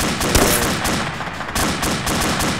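Gunfire in the military shooter game Arma 2 during an insurgency match in Zargabad, a rapid burst of loud cracking shots in quick succession, close and dense, with no talking.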